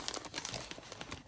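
A plastic packaging bag crinkles up close with dense, continuous rustling and crackling as it is handled indoors, and nobody speaks over it.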